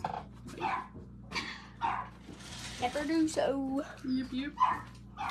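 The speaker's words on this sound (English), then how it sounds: "Y'all, I'm sorry about the dogs." Dogs bark in short repeated bursts nearby, mixed with whines and yips, while people talk over them.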